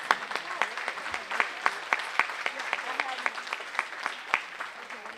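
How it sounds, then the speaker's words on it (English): An audience at a Juneteenth banquet claps for a keynote speaker, with a steady run of scattered handclaps that sounds fairly close and moderately loud, without speech over it. "I think we owe Shawn a little clap."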